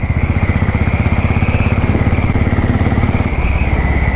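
Royal Enfield Classic 500 Desert Storm, a fuel-injected 500 cc single, thumping along under way with a steady rapid pulse, loud and close, with a brief shift in tone near the end and no voices.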